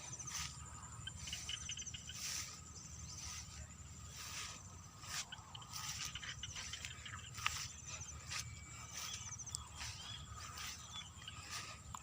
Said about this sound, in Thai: เป็นเสียงกบเสียงเขียดร้อง